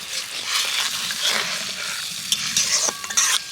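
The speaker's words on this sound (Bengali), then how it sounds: "তো জলটাকে একটু নেড়ে দেব" A spoon stirs a watery mixture of chopped coriander and spices in a pan, giving a close, wet swishing and sizzling broken by a few sharp scrapes and clinks near the end.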